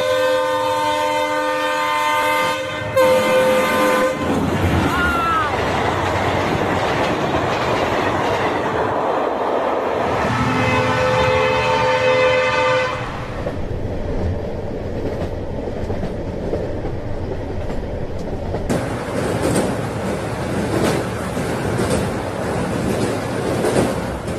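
A train on the Bairabi-Sairang new rail line during a speed trial, with loud, sustained horn blasts over the rumble and clatter of wheels on track as it passes close by.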